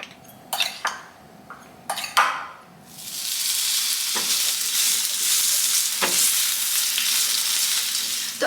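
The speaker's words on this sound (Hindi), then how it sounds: "तो अभी तो सिर्फ आलू फ्राई हो रही है" Potatoes marinated with turmeric, chili powder and salt hit hot oil after a few clinks of utensils, then fry with a loud, steady, close sizzle that continues unbroken, with an occasional stir.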